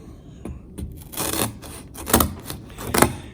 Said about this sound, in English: These are kitchen type shears. They do a good job of cutting the cardboard